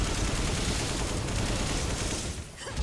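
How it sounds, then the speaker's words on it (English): Rapid gunfire in the video game Resident Evil 5, a dense, loud fusillade of overlapping shots that runs almost continuously before a brief dip near the end. "I can shoot him from the back."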